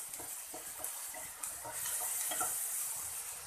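Spring onions fry in a pan with a soft, continuous sizzle and hiss, broken by light stirring scrapes, with no talk.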